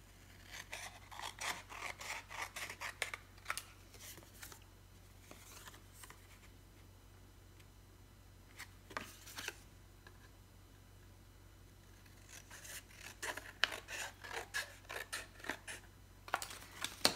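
Scissors snip through paper for a photo collage in quick, quiet clusters of short cuts, pausing in the middle before resuming with a faster run of snips, close and faint against a low steady hum.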